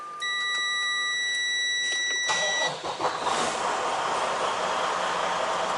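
Car engine cranking while a handheld battery tester runs a cranking test, the tester's steady electronic beeps and tones first, then a loud rough burst of starter and engine noise that keeps running nearby.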